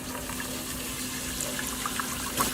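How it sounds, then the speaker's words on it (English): Water being filled through an attached injection syringe into a pipe for a gas-generating reaction, a steady trickling wash with faint bubbly ticks, constant and fairly close. "And now what we'll do is we simply put some water in it."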